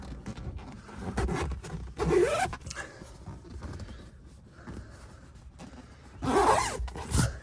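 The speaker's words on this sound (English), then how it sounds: "Zip it up and you're all good to go." Zipping up a leather seat cover on a 2021 Ram 1500, two distinct close zipper pulls a few seconds apart, each a short rasping sweep, with quiet handling noise between.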